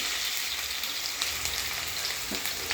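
Chopped onions dropped into hot oil for a spicy potato bhaji, producing a dense, loud, continuous sizzle close up with faint stirring underneath.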